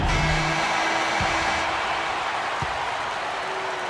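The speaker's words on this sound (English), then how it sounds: "That shot eliciting a roar from this gigantic crowd." Roaring crowd in an NBA 2K basketball video game, a Brooklyn Nets versus Oklahoma City Thunder match, a dense, loud, steady wash of cheering that holds throughout and eases slightly toward the end.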